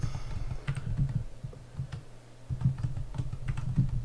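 Password typed on a computer keyboard while adding a user on a Raspberry Pi 4: a quiet run of close, irregular key clicks with brief pauses, no talking over it.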